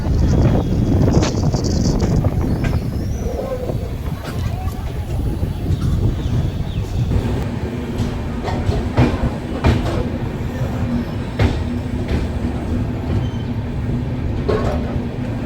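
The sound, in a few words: Saurashtra Mail train arriving at Rajkot Junction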